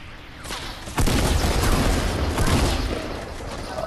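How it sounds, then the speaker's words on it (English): Rocket blasts in the Fortnite video game: a sudden loud boom about a second in, followed by sustained rumbling explosive noise and scattered bursts, with no talking heard. "Watch out, they got rockets"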